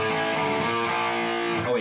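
An electric guitar plays a distorted riff, striking a power chord that rings out with a dense, gritty tone for under two seconds, close and loud with no talking.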